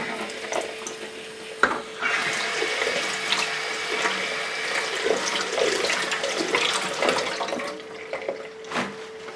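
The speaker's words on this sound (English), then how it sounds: "Another rinse in water." Raspberry seeds being rinsed under running tap water, a steady close splashing wash with small clinks and knocks of handling throughout, no voices.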